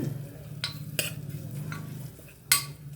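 Grated coconut roasting in a pan, a soft low sizzle under sharp scrapes and clinks as a spoon stirs and knocks against the metal, several distinct strokes over a quiet background.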